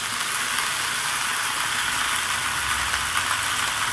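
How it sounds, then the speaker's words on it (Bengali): Leafy bottle-gourd stem greens fry in a hot wok, a constant dense sizzle and hiss filling the space without pause, close and fairly loud. "বাকি শাকগুলো আমি কড়াইয়ের মধ্যে দিয়ে দিচ্ছি।"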